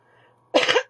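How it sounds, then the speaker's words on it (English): One loud, close cough bursts out after a brief near-silent moment, with a second starting right at the end. "Sorry about that cough."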